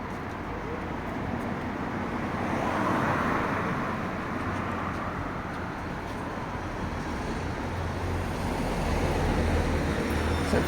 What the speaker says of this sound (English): the place is just chaos with traffic